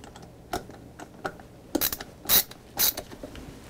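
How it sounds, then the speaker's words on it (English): A cobalt screwdriver turning a screw into a base plate, giving a few scattered clicks and creaks followed by three louder grinding bursts, close and alone. "Then I take my good old cobalt screwdriver"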